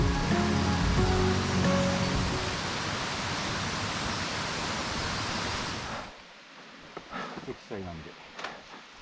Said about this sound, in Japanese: 沢音も遠くなり